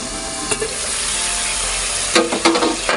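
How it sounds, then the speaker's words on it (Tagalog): Pork igado frying in a pan, a continuous sizzle broken by several scraping stir strokes near the start and a cluster of them toward the end, with no voices. "Stir muna natin ng siguro ng mga 2 minutes para mas lalong lumambot yung karne."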